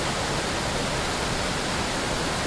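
Torrent of water discharged from a reservoir after a heavy tropical downpour in Singapore, heard as a constant loud broadband roar like a waterfall, unbroken and close, with no voices.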